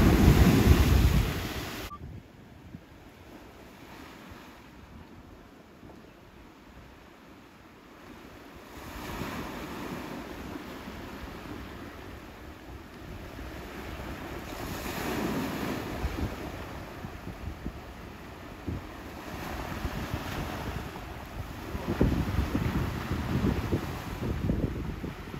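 Waves break and wash ashore at Steps Beach in Rincón, Puerto Rico, a broad surging roar that swells and recedes, with gusts of wind buffeting the microphone, loudest at the start and again near the end.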